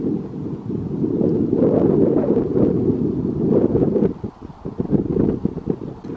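Strong wind buffets a microphone high in the mountains, a loud rushing roar that swells and gusts for several seconds, then eases into rougher, choppier bursts.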